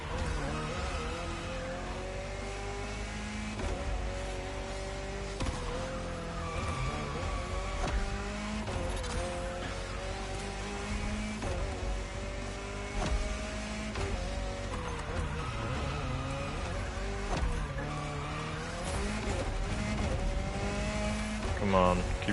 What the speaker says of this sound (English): It's definitely the best handling rally car.